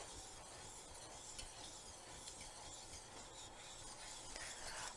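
A whisk stirs butter into hollandaise sauce in a pan, giving a steady, close scraping and rubbing that runs without a break and with no talk over it.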